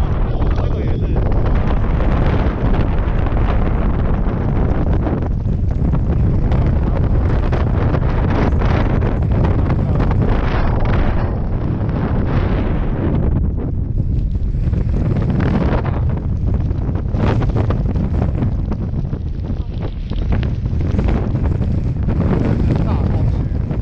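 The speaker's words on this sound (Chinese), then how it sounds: "大风雪" Strong wind in a snowstorm at a ski slope at Hakuba roars and buffets the microphone in heavy low rumbling gusts, loud and continuous, with a few faint voices underneath.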